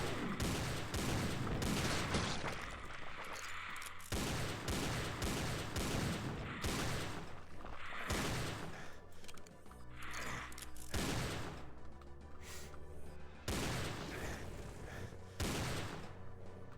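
Napalm launcher firing in the Doom 2 video game, repeated heavy blasts and rolling explosions in rapid succession, loud and dense throughout with no talking.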